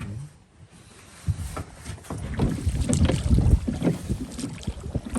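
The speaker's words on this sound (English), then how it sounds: "Looks like it's breezing up a little bit" Wind blowing over a lobster boat at sea off Maine, heard as gusty rumbling buffeting on the microphone mixed with water and engine noise, rising louder through the middle of the clip.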